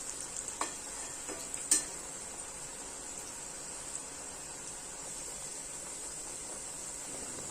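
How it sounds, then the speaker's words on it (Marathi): Snacks frying in hot oil on medium heat, a steady faint sizzle running throughout, with a few light clinks of a utensil near the start and no voices. "आणि मीडियम ह्याच्यावर तळून घ्यायचं आहे"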